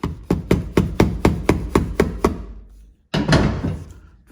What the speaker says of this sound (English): Kind of using a big hammer here.